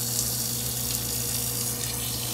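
Water rushes steadily into a portable washing machine tub as it fills for a rinse cycle, a constant close, even flow with a low pump hum beneath and no talking.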